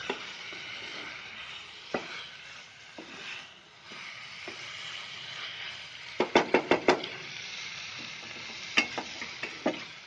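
Bottle gourd fries with a steady, soft sizzle, broken by occasional sharp knocks and a quick burst of clanks as a spatula taps the pan.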